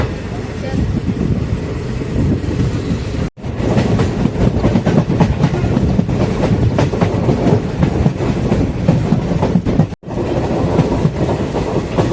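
A train rumbles steadily along the tracks between Rajapalayam and Sankarankovil in Tamil Nadu with a rhythmic clatter, loud and close, briefly cut twice by sudden drops to silence.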